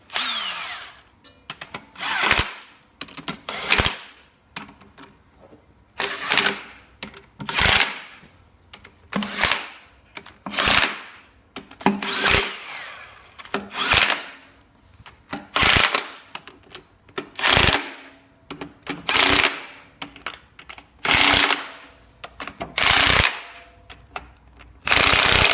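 A pneumatic air gun rattles in short repeated bursts while rags are cleared from a Tornado T2 pump, sharp close blasts separated by brief pauses over roughly two dozen seconds.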